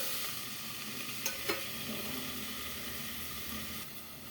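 Vegetables sautéing under a lid in a covered pan, a steady close sizzling hiss throughout with a couple of soft clinks from the lid or spoon partway through; no one speaks.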